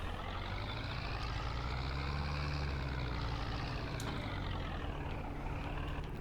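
A Zetor tractor engine in Farming Simulator 22 drones loudly and steadily in the foreground, with a bright whining rise and fall and no talk.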